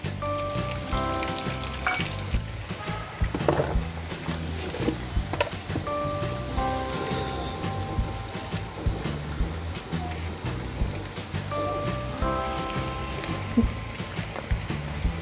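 Chopped garlic frying in hot oil for a Bangladeshi olive pickle, a steady, dense crackling sizzle that holds at an even level throughout, with faint kitchen clatter and a soft tonal beeping in the background.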